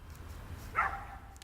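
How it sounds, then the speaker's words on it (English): A single dog bark rings out at a moderate distance against a low background rumble, one short sharp yelp within a looping outdoor ambience. "and the dog barking"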